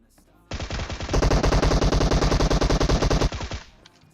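Sustained automatic gunfire in the mobile battle-royale game PUBG Mobile, a loud rapid burst of close shots lasting nearly three seconds, tapering into a few separate shots at the end.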